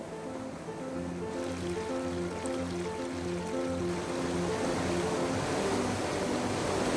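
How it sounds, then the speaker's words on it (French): A fast-flowing, fairly straight stream in the Englischer Garten park in Germany: a steady, broad rushing of water that swells slightly over time, with soft music underneath and no talking. "Les cours d'eau rapides sont plutôt rectilignes et s'écoulent rapidement vers l'extérieur du parc"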